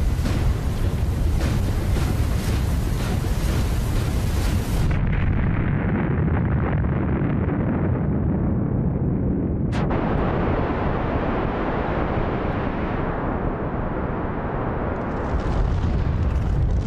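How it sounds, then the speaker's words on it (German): A propane gas tank exploding after ten minutes in an open heating-oil fire at a cordoned-off test site, heard as a continuous loud roaring rumble of blast and flames, with a sharp crack partway through. "Zehn Minuten dauerte es, bis der Tank explodierte."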